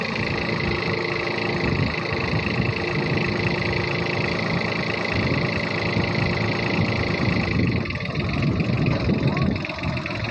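A Yanmar AF-18 engine idles steadily on a single-row planter converted into a mini tractor. The running is loud and constant throughout, with someone talking nearby.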